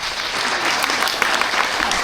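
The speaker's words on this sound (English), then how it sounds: "that round of applause might sound something like this." A short, brisk burst of crowd applause at a live science show, dense clapping at even loudness for about two seconds.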